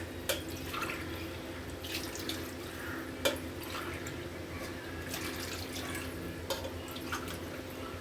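Water runs and trickles steadily into a cooking pot for semolina kichadi, with a few sharp clinks and drips along the way, no voices.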